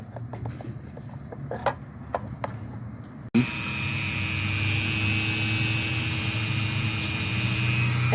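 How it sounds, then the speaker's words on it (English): A Dremel rotary tool fitted with an engraving bit starts on wood from a kids' whittling kit. It gives a loud, steady, high electric whine that cuts in abruptly after a few seconds of quieter handling sounds. "We had the Dremel. Now we're just going to engrave."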